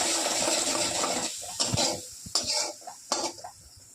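Turmeric and chili powder sautéing in a pan for aloo begun chapla fish curry, a steady sizzle with several sharp spatula scrapes and clinks against the pan, close and moderately loud.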